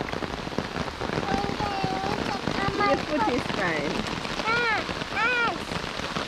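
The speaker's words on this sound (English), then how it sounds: "It's raining, guys." Steady patter of rain falling outdoors during a family fishing outing, heard close and continuous while people talk and a voice rises over it.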